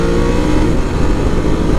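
A Voge 900DSX motorcycle accelerates hard with a loud, close engine drone rising steadily, heard at speed on an open road.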